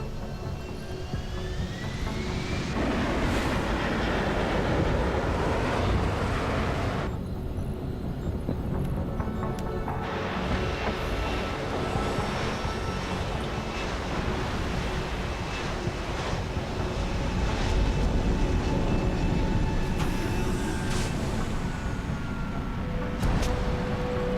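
An aircraft in the video game Deus Ex: Human Revolution comes in to land, a continuous broad engine and wind roar that holds steady throughout with a few shifting whines.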